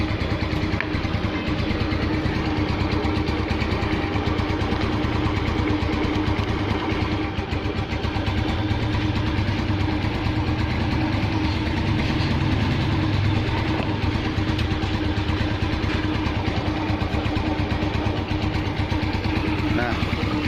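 A Yamaha NMax scooter engine idling steadily up close, a continuous even drone throughout, with people talking over it.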